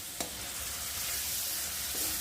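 Spice mix of cumin powder, salt and chili powder fries steadily in a hot pan, a continuous loud sizzle with a brief stir or scrape near the start and another toward the end, no voices.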